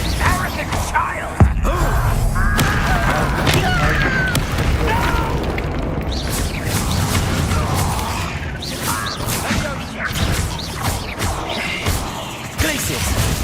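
Confringo explosive spells from Hogwarts Legacy go off again and again amid dense battle noise. Voices are heard throughout as the booms land.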